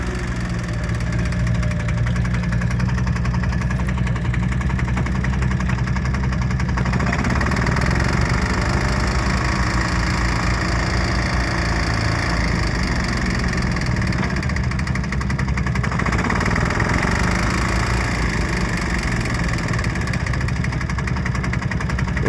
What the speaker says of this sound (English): we've got a little Ransom crawler with a left and right hand plough. As you can see, they're 2-stroke diesel.